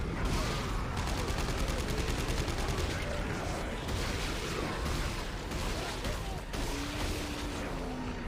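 Sustained gunfire aimed at a yellow fuse on a giant drill in Dead Space 3: rapid, closely spaced shots ring out over heavy mechanical rumble, loud and nearly continuous throughout.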